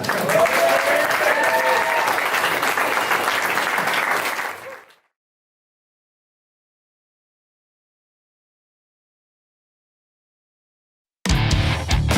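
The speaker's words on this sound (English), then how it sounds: "give him a big round of applause." A crowd applauds the photographer Abe at a colt show, with steady, dense clapping for about five seconds that cuts to silence. A loud burst of sound returns near the end.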